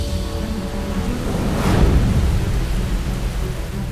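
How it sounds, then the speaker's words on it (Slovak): A heavy storm over Japan, with steady rain hissing on surfaces and a deep roll of thunder swelling near the middle before fading back into the downpour. "Japonsko zasiahla silná búrka."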